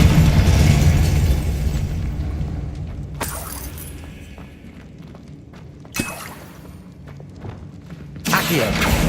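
A Confringo blast spell goes off in Hogwarts Legacy with a loud, deep explosive rumble at the start that slowly fades, followed by sharper burst impacts around midway and near the end.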